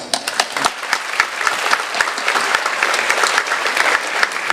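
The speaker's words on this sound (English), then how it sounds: "give them an extra special round of applause" A commencement audience claps loudly and steadily, a dense, even wash of many hands that continues throughout without letting up.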